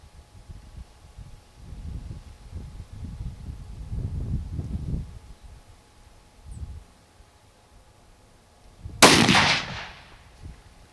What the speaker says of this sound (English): with being such a short rifle, it is a loud bang there